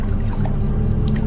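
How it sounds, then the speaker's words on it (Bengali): An oar pulls through river water with a short, wet churning swish over a low, full rumble of moving water, brief and close, with no voices. "আমি আবার বৈঠা তুলে নিয়ে জল টেনে দেখলাম"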